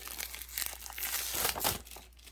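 Crinkly plastic packaging on a board game being handled and pulled open up close, a run of crackling rustles building to a louder burst before tapering off.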